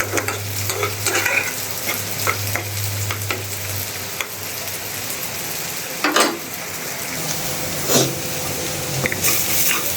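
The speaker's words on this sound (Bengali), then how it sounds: "এটা একদম ভাজা ভাজা করুন" Jackfruit seeds frying with dried fish in a pan, a steady loud sizzle overlaid by repeated scraping stirring strokes, close up and without talking.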